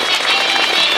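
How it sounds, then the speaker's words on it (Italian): A theatre audience applauds after a Sardinian-language comedy, a dense, steady wash of many hands clapping at moderate loudness throughout. "Un applauso che se lo meritano."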